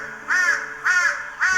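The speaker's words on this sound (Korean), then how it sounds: "어김없이 까마귀 울음소리가 엘리야를 깨웠습니다." Crows caw in the morning by a valley brook: three loud, harsh caws at an even, unhurried pace, close by and with no voices.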